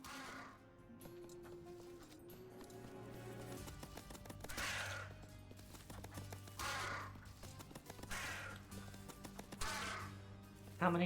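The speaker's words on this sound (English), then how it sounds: "How many crows are there?" Crows caw repeatedly in the video game Little Goody Two Shoes, a series of harsh calls recurring every second or two over a soft, sustained musical backdrop.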